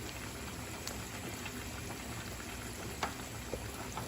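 A Şile dish simmers in a pot after pepper paste goes in, giving a soft steady bubbling hiss with occasional small pops and gurgles, quiet and close, with no talking.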